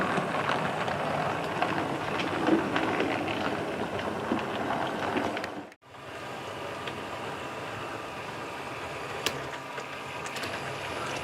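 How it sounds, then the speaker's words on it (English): Branch line train pulling away from a model railway junction layout, a steady low rolling rumble with a brief dropout midway before the running noise continues. "And away goes the branch train back to the junction station."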